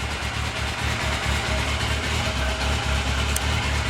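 A carbureted, largely stock 1998 Yamaha YZF 600R Thundercat sportbike engine idles nearby with a steady, even low rumble and slight pulsing, no revving.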